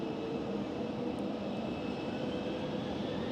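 A Transavia Airbus A321neo pushes back at a gate at Amsterdam Schiphol, its engines giving a steady, even whine and rumble that holds unchanged throughout with no voices.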